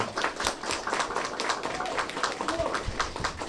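An audience applauds at the official launch of a national zero-waste program, a dense patter of handclaps at steady volume from a crowd, with faint voices mixed in.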